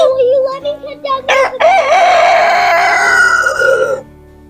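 A homestead rooster crows loudly and close by in one long, wavering cock-a-doodle-doo, with a few short clucks and calls just before it.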